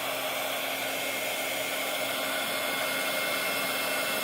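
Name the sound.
heat tool blowing to melt crayons on canvas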